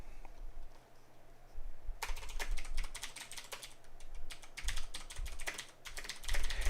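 Typing on a computer keyboard, quiet at first, then a fast, close run of key clicks with a few brief pauses and an underlying low hum.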